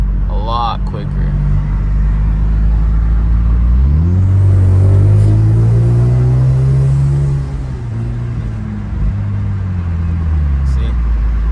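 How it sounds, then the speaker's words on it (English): A tuned Hyundai Genesis Coupe with a turbo accelerates hard close by, its engine note climbing in a rising, revving sweep over a steady loud rumble, with a brief sharp pop near the start. "with getting tuned, you get pops and bangs, you get higher performance, and you hear that turbo spew like a lot quicker"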